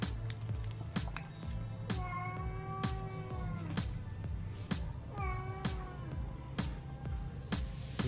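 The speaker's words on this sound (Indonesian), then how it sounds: "Di belakang ada suara kucing seperti kemarin-kemarin" A cat meows several times, drawn-out harmonic cries rising and falling, over a steady low hum and repeated sharp clicks.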